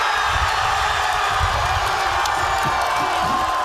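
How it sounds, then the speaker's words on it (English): A large crowd of soccer fans in Calgary cheers and whoops after a goal by Canada's national team, a dense, continuous roar with shouting voices, heard from within the gathering. "Thousands in the city joining the chorus of Canadians cheering on the nation's soccer team."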